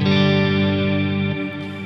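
Strymon NightSky reverb pedal with modulated reverb, a loud dense sustained wash of layered tones holding steady, then thinning slightly and shifting near the end, with no talk.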